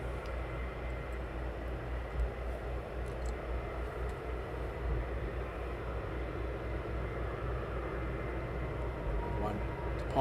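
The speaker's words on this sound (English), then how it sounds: "Nice to see the 75" A Boeing 757 taxiing at East Midlands Airport gives a steady, broad jet-engine drone that holds at an even level throughout, heard from some distance outdoors.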